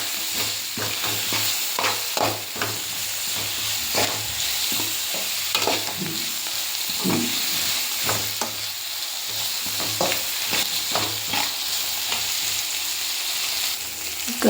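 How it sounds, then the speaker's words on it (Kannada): Onions frying in oil for a sambar, with a utensil stirring and scraping the pan in irregular strokes over a constant sizzle, close up and without speech. "ನೋಡ್ಬೋದು ಈರುಳ್ಳಿ ಎಲ್ಲ ರೆಡ್ ಆಗಿದೆ ಚೆನ್ನಾಗಿ ಫ್ರೈ ಆಗಿದೆ"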